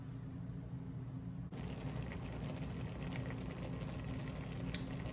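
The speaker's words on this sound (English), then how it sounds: "it's come to what I feel is a full boil" Rhubarb jam bubbles at a full boil in a covered pot, a soft, steady simmering hiss with faint pops and no voices.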